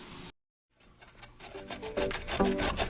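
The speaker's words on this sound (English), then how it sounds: "grating these carrots manually was a whole workout" Carrots are grated by hand on a kitchen grater. After a brief silence, rhythmic rasping strokes build up close and loud, each scrape rough and gritty.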